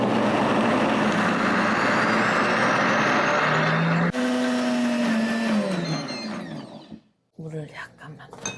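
A kitchen blender grinds soybeans with water into a smooth base for bean soup. The loud, steady motor whir holds for several seconds, then its pitch sinks as it slows and winds down, and a few short whirs follow.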